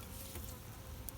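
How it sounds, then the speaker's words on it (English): Honeybees being shaken off a drone comb frame give a close, continuous buzzing hum that holds steady through the short moment. "I'm just going to shake the bees off the drone comb and replace it with an undrawn comb."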